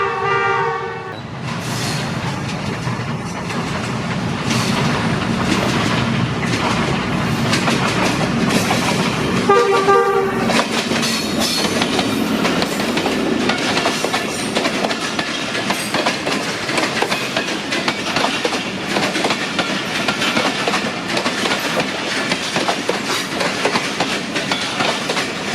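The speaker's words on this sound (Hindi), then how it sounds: "ये आ गई ZC20 6427 की क़यादत में 211 नारोवाल पैसेंजर।" Narowal passenger train 211 arriving behind locomotive ZC20 6427 on the Narowal-Sialkot section, a loud, close horn blast at the start, then a continuous heavy rumble and rhythmic clatter of wheels over rail joints as the coaches roll past.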